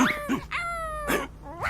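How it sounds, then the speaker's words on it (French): A dog gives several close, high whimpers and short yips, including one long drawn-out whine in the middle, in a short run of nervous cries. "C'est le chien."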